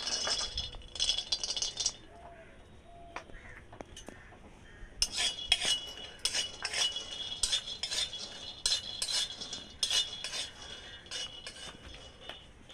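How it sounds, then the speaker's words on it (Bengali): Peanuts roast dry in a hot wok, loose rattling and clinking bursts of stirring coming in irregular clusters, close and fairly quiet, with no sizzle and no voices. "আমি কিছুটা চিনে বাদাম নিয়েছি পরিমাণে অনেকটাই বেশি সেটা আমি ভেজে নেব ভালো করে"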